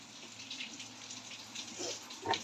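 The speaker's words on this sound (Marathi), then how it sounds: "छान असा रिमझिम पाऊस चालू आहे." Light monsoon drizzle falls near a home by the fields, a faint, continuous watery patter with slight swells and no voices.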